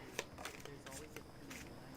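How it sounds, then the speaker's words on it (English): Tarot cards being cut and shuffled by hand, a few quick papery riffles and slaps close by, with a voice speaking over them. "I'm just going to cut shuffle now"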